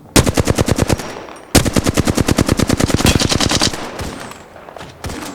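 Rapid automatic gunfire from a video game shooter, two long bursts of loud, evenly spaced shots separated by a brief pause, followed by a few scattered single rounds.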